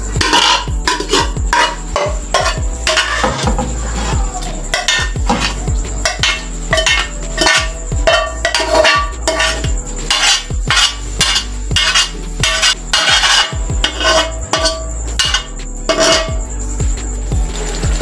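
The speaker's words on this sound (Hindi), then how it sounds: "अब इसी ऑयल में हमने जो है गोश्त डाल लेना है, और गोश्त की हमने करनी है भुनाई अच्छे से" Meat being browned in oil in a cooking pot, stirred with a metal utensil that clanks and scrapes against the pot in a busy, irregular clatter throughout, close and fairly loud.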